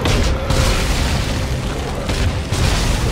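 Grenade explosion in the video game Dead Space 3: a loud, broadband booming roar filling the whole stretch, with a second heavy blast surging in near the end and no talk over it.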